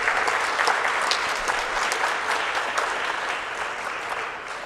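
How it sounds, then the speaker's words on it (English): Steady applause fills a board of education meeting as the audience claps for someone's service, a dense, even wash of many hands that holds at an unchanging level from start to finish. "let's just give him a round of applause for his service"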